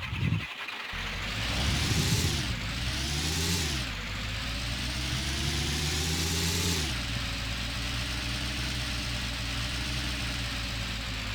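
A Jeep engine in a wartime snow-and-forest video game drones steadily while driving, with repeated rising revs and sudden drops as it shifts, loud and close with no talk over it.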